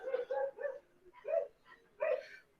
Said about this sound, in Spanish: Estoy en el camión de la basura y están ladrando a los perros